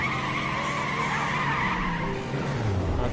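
Tires squeal and skid steadily under a revving engine as a car is driven in The Saboteur, a continuous close screech with a slight dip near the end.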